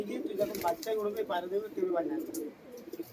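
Andhra pigeons offered for sale give repeated warbling coos at close range, partly overlapped by nearby conversation.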